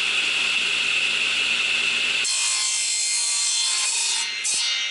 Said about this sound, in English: we're going to take this 1/2 inch PVC, we're going to cut one 10-inch piece.